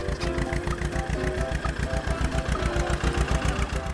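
A mini tractor engine runs with a fast, steady chugging pulse, close and continuous, with no voices over it.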